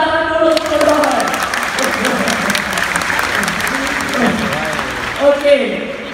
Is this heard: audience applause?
yes